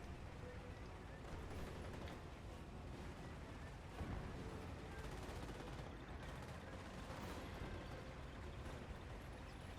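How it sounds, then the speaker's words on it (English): Continuous dense gunfire and booming blasts from a video game battlefield under mortar fire, steady and loud throughout with a heavier burst midway. "Second sniper runs immediately into mortar fire."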